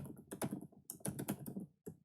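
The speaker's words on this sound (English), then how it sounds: "Same name I am typing here and press enter key." Keys clatter on a computer keyboard in short bursts of typing, with a pause and a final separate press that fits the enter key, close and fairly quiet with no talking.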